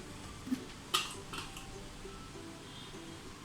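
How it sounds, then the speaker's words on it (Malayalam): A steaming vessel of rice flour and coconut batter is lowered into a pot of boiling water in a home kitchen, giving a few light metallic clinks against a quiet background. "ആ ഒരു സമയത്ത് നമുക്ക് ഈ ഒരു പാത്രം പതുക്കെ കൈയൊന്നും പൊള്ളിക്കാതെ അങ്ങോട്ട് ഇറക്കി വെച്ച് കൊടുക്കാം."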